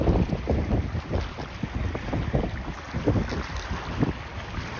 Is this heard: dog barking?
no